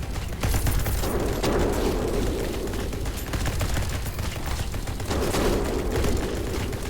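Continuous loud bursts of shotgun fire in a video game, overlapping blasts forming a dense rolling barrage with a rumbling low end, close and sustained.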